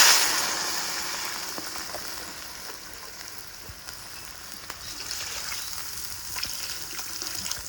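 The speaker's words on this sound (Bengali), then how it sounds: "মশলাটা দিয়ে কষা হয়ে গেছে, এবার দিয়ে দিব পরিমাণ মতো জল" Water is poured into a pan of fried spices for a Bengali boal fish curry. A burst of hissing and gushing fades into a quieter, steady sizzle and bubbling.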